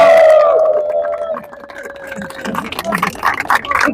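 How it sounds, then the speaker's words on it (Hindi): Applause and crowd noise greet the trophy presentation at the closing ceremony of a cricket final, GBSL Season 15 in Kuwait. Clapping builds in the second half, loud and close, after an opening stretch of voices and a sustained tone. "बहुत सारे तालियां।"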